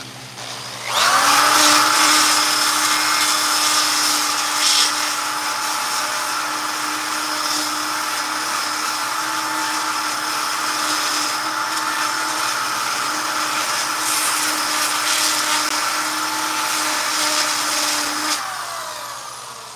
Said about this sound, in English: Let's sand the bottom here quick, just a little bit.